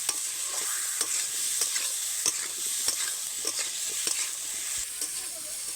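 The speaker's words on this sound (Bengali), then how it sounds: "গরম এগুলো মশলার সঙ্গে কচু আলু বেশ কয়েকবার নেড়ে নেব।" Taro and potatoes, fried earlier, being stirred with spices in a hot pan, a steady sizzle of frying under repeated scraping strokes of a spatula at a close, even rhythm.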